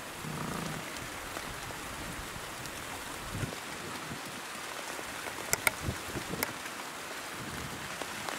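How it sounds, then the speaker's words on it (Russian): Light rain after a thunderstorm patters softly and steadily, with a few sharper drips standing out now and then against the hush. "идет дождик."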